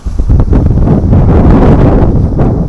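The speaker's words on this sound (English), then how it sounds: "It's so windy." Strong wind buffets the microphone at a campsite in cold, rainy weather, a loud, continuous rumbling roar with gusty surges and no letup.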